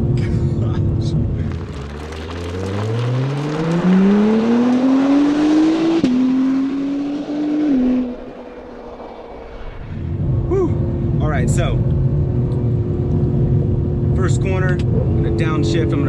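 A 2020 Acura NSX hybrid supercar accelerates hard, its engine note climbing in pitch through the gears with a brief shift dip and audible wastegate chatter, loud and close from the cabin, while a person's voice rises over it.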